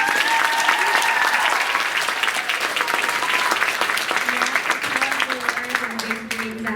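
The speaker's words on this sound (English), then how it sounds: "a big round of applause for our middle and high school contestants" Sustained applause from a large crowd at an oratorical contest, steady and dense throughout, with clapping filling the room at a loud, even level.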